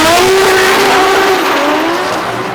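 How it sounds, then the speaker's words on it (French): A drifting car screams its tires at a burnout event, a loud, close, sustained squeal with a high wavering tone over engine roar, fading slightly as it goes on. "J'aime bien le drift, mais je tiens à mes oreilles quand même."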